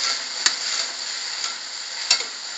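Tomato paste and brinjal fry in oil for kara kuzhambu, a steady close sizzle punctuated by a couple of sharp utensil clicks against the pan.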